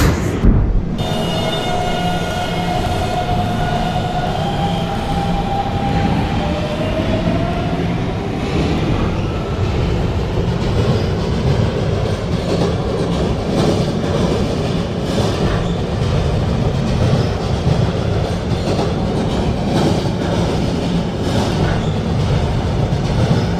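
A Roblox R152 subway local train runs along the track with a steady loud rumble and rhythmic wheel clatter, a falling motor whine at the start, then a constant roar throughout.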